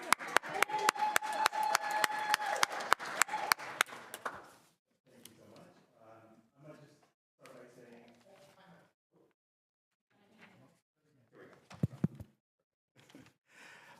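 Audience at a public school board meeting applauds for about four seconds, a dense run of claps at moderate loudness, then fades into a quiet room where a person begins speaking.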